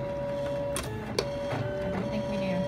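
A Silhouette Cameo cutting machine fitted with a Foil Quill runs a job, its carriage motor whirring steadily while a few short mechanical clicks and knocks sound close by.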